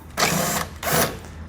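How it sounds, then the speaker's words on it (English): A power tool with a T30 Torx socket backs out a headlight bolt on a 2020 Jeep Cherokee in two close, loud whirring bursts, the second slightly shorter. "We're going to remove that with a T30 Torx socket."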